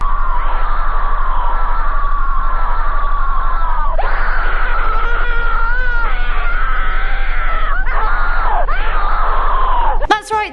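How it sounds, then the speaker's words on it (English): Dissonant, droning tones and loud sustained screaming from the Suicide Mouse lost cartoon, wailing and warbling continuously and harshly throughout, ending in an abrupt burst. "The footage is accompanied by dissonant sounds and then loud screaming."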